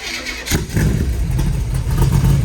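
An old car engine, in a collection that includes a 1969 GTO and a 1923 Ford truck hot rod, cranks and catches, then settles into a loud, rough, steady running rumble close by.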